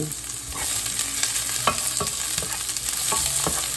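Onions sautéing in a pan for a chayote squash dish sizzle steadily, with repeated spoon-scraping strokes landing every half second or so.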